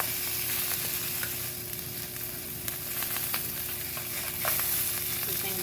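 Chorizo frying in a pan, a continuous close crackling sizzle with occasional scraping and knife clicks as it is cut into smaller pieces, no voices.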